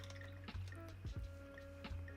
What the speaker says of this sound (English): And then we're going to wash the brush,